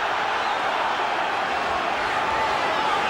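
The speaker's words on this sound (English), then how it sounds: "The crowd is absolutely going wild here." A packed arena crowd roars without pause at a Nigel Benn versus Gerald McClellan boxing match, a dense, loud, even wall of cheering from every side.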